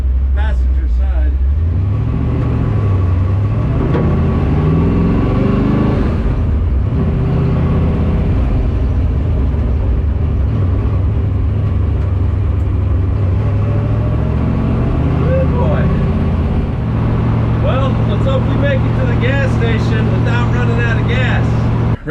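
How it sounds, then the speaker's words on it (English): A 1967 Ford Mustang being prepped for road racing drives along, its engine droning steadily and loud throughout, shifting pitch as it accelerates, with a rough exhaust leak on the passenger side and occasional voices under the engine. "Definitely got an exhaust leak on the passenger side."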